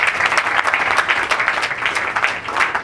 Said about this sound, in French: je demande encore une fois de plus à l'Assemblée d'applaudir